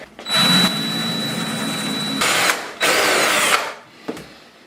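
A power drill bores quarter-inch pilot holes into shower tile, whining loudly and close in several sustained bursts separated by brief pauses, ending with a short final spin.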